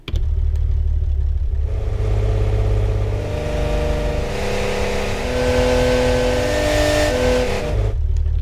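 A designed game vehicle engine effect built with simple, quick mechanics: a steady, loud synthetic motor drone that climbs and shifts in pitch like revving, running alone throughout.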